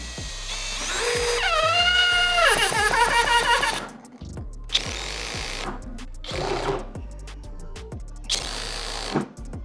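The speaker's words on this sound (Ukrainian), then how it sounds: "на 14-му положенні тріскачки він не докрутив до кінця саморіз" A Dnipro-M CD-200BC cordless drill drives a 10 cm screw with its clutch set to position 14: a rising motor whine, then a series of sharp ratcheting clutch bursts as the screw stalls short of full depth.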